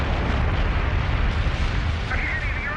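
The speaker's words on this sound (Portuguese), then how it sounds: "Está ocorrendo a explosão do vulcão Galeras." Eruption of the Galeras volcano in Colombia, a continuous loud roaring rumble dominated by deep low-frequency energy, with a faint voice rising briefly near the end.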